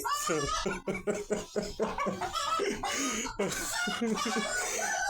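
Chickens cluck in quick bursts and a rooster crows, loud and close, mixed with excited human voices and what sounds like laughter.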